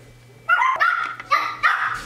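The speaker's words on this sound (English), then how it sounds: "dogs are barking and everything's going crazy" Several dogs bark in a home, giving three or four loud, sharp barks in quick succession close by, with a low steady hum underneath.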